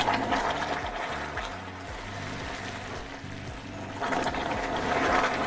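Warm water poured slowly into hot caramelized sugar in a pan, giving a steady, moderately loud watery hiss and bubbling rush that swells toward the end, with no talking.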